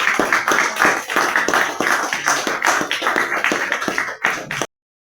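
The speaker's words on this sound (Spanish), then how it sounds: "nos despedimos con un aplauso." A crowd claps steadily, dense and fairly loud, with some sharper taps mixed in, stopping abruptly near the end.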